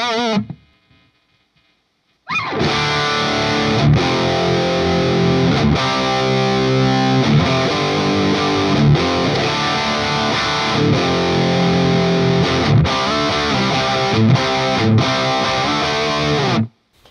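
Heavily distorted electric guitar through a Friedman Mini-BE amp head, loud and sustained, playing chugging riffs with brief gaps between phrases after a short quiet opening.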